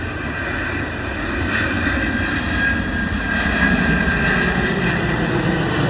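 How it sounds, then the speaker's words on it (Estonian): Large airplane passing overhead above a forest, a loud steady engine roar with a broad rumbling drone that holds throughout the several seconds, with no talking. "Aga see ütleb vist hästi suur lennuk."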